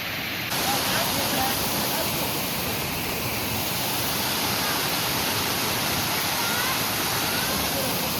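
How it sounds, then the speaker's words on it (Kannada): A waterfall near Sakleshpura gives a loud, steady roar of rushing water that fills the whole clip without a break. "ಇಲ್ಲಿದೆ ನೋಡಿ ವಾಟರ್ ಫಾಲ್ಸ್."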